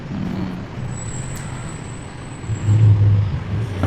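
Road traffic in Baguio City rumbles steadily with engine drone and passing vehicles, swelling louder near the end, with a faint high whine above.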